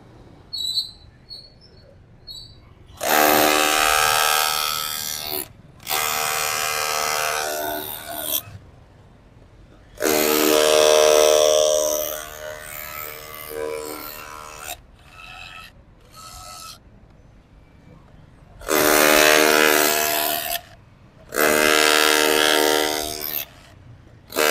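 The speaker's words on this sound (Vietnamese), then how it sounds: "bây giờ mình chuyển qua chế độ khoan búa để thử đục cái mũi đầu nhọn nha anh em" Dewalt DCH273 cordless hammer drill switched to hammer mode, chiselling with a pointed bit: loud, close rattling bursts of several seconds each, broken by short pauses, with no talk.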